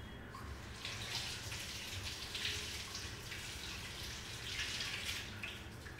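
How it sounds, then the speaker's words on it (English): Tap water runs steadily over a gourd being washed, a constant close splashing hiss with faint shifts as the gourd is turned, and no voices. "I'll wash it just to make sure."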